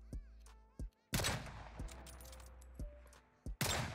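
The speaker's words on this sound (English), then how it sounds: "He took his first shot, missed" Gunfire from the video game Call of Duty Warzone: a few sharp, sudden bursts of shots separated by quiet gaps and softer clicks, loud and close.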